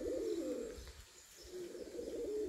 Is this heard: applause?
no